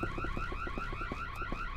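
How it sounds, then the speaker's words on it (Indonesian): An alarm sounds in the video game Boo Men as a fast, repeating electronic warble, steady and loud, pulsing several times a second without pause. "Kenapa ada suara alarm sih?"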